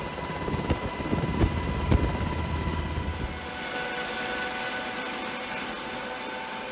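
A steady whirring aircraft drone with a faint rhythmic thump, a US Coast Guard helicopter heard at a moderate distance, continuous and fairly quiet.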